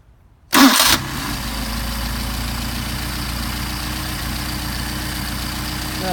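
Mercedes 190SL engine with Solex carburetors hot-restarted: a brief cranking burst that catches at once, then settles into a steady, even idle that runs close and loud with no talking.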